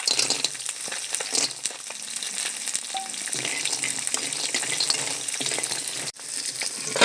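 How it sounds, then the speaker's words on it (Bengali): Lentil dumplings (bori) frying in leftover oil in a wok after fish, a dense steady crackling sizzle that runs nearly unbroken, close and fairly loud, with a brief dip near the end. "এতে যা তেল আছে এই তেলেই দিয়ে দিচ্ছি বড়ি।"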